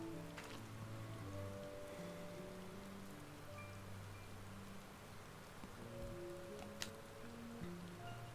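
Steady rain falls over a graveside scene in Final Fantasy XIV, a soft continuous patter with faint drops, heard under a low sustained musical tone and staying quiet throughout.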